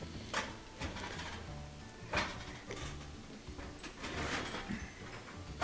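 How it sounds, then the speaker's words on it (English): A gas oven's broiler drawer slides shut with a few muffled metallic scrapes and thumps over a steady background hiss, fairly quiet and close, with no talking. "Get the broiler drawer pushed back in."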